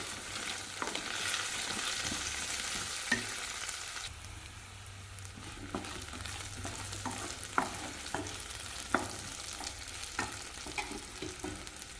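Cinnamon, cloves, cardamom, poppy seeds and garlic sauté in a pan, a soft, steady sizzle broken by occasional scrapes and clicks of stirring, fairly quiet and with no voices.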